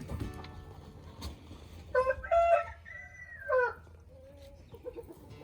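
Chickens on a farm where hens lay eggs daily, giving a few close, moderately loud clucks and short squawks in a brief burst near the middle, with quiet barnyard background before and after.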